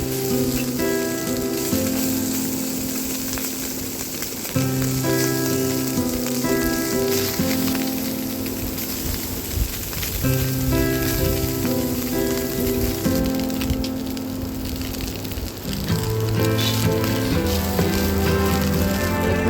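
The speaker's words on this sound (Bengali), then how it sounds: "ভালো করে লাল লাল করে মাছটা ভেজে নিচ্ছি।" Small fish (chuno) fry in hot oil in a pan, a constant crackling sizzle that stays steady and close for the whole stretch, with music playing over it and no talking.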